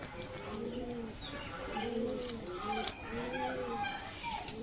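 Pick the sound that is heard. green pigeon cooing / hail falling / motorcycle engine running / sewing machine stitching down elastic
green pigeon cooing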